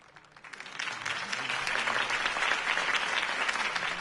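A crowd applauds after a campaign speech in a Batman Telltale game scene, the clapping swelling quickly from quiet and holding as a dense, sustained ovation.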